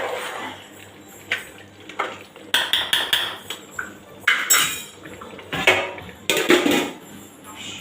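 Dum biryani stirred in a cooking pot, a spoon scraping and clanking loudly against the metal in a series of irregular knocks and clatters, close up with no talking.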